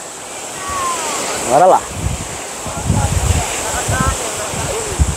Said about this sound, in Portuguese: Estão escutando aí, pessoal, o barulho das ondas?